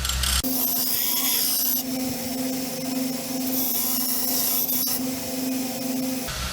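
Steady close rasping of a hand file worked along an axe blade at a logging job, a continuous gritty scrape with a few brief pauses and no talk.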